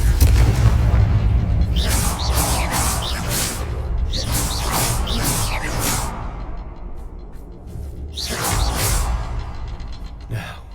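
Booming blasts from the Confringo fire spell in the Hogwarts Legacy video game, several broad whooshing explosions in bursts over a steady low rumble, with a voice faintly audible among them.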